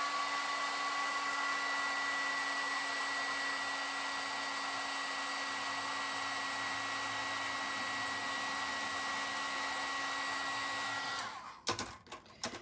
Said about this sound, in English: Let me heat this.